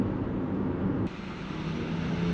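Steady broadband road rumble inside a Toyota bZ4X electric car on hard EV tires, a constant low roar of tires on pavement with a slight drop in level partway through.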